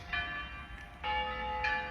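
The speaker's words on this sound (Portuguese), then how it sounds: "E é sino das igrejas," Church bells ring out across a town square, three clear struck tones at steady intervals with long ringing overtones over a low murmur of ambient noise.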